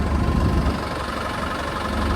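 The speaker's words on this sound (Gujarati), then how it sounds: "જો આગળથી એક ટ્રેક્ટર આવે છે" A tractor engine running nearby with a steady low rumbling drone that swells slightly at the start, continuous and fairly loud, with no talk.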